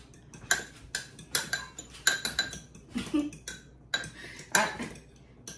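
A fork whisking eggs in a bowl for breakfast, giving quick bursts of metallic clinks and scraping in an uneven rhythm, close and fairly loud with brief pauses between strokes.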